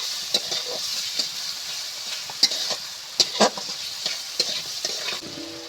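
Stir-frying white eggplant with egg and a little chili in a pan, a steady close sizzle broken by irregular scraping and clattering stirs of a utensil against the pan.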